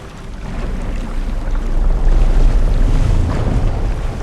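Boat heading out on open sea in a drama series: a loud, continuous rumble of hull and water with wind buffeting, swelling in the middle and easing slightly toward the end, no voices.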